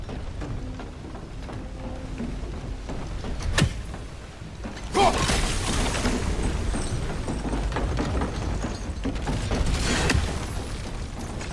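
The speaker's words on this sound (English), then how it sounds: "If you freeze the geyser, the pressure will turn the wheel." In God of War Ragnarok, geyser pressure forces a heavy wheel to turn, giving creaking mechanical grinding with a sharp crack and then a loud rushing burst that continues amid rumbling.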